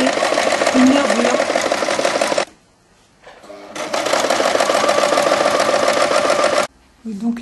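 A sewing machine stitches a rib seam on a piped cardigan, running steadily and loudly for a couple of seconds, pausing briefly, then running again at length before stopping near the end.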